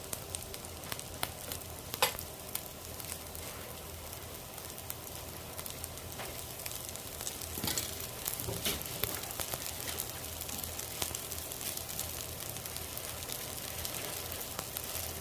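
Green onion bulgogi sizzles and crackles steadily in a hot pan as it is stir-fried, a dense, continuous frying hiss with occasional louder pops and no talk.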